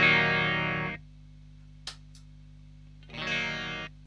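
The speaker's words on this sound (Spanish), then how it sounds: "Es como si tuviera sin efecto la guitarra." Electric guitar played through an EQD Interstellar Orbiter pedal with its filters switched off, giving a dry tone: two loud strummed chords about two seconds apart, with a faint click in the quiet gap.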